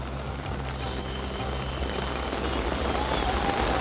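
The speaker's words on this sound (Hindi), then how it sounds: "देखिए ज़बरदस्त बारिश हो रही है अभी।" Heavy rain pours down in Haridwar, a dense, steady wash of drops that grows slightly louder and fuller over a few seconds.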